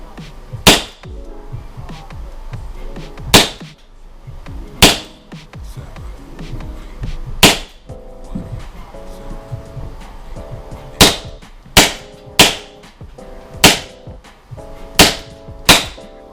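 Sharp cracking shots from a Vorsk VP-X airsoft gas pistol firing indoors on red gas, a dozen loud snaps spaced irregularly, some in quick pairs, with soft mechanical clatter between them.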